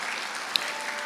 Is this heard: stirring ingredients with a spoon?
no